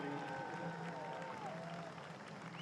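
A crowd at an America's Cup match race claps for the American team, with steady applause and light cheering filling the air, blended with broad outdoor background noise.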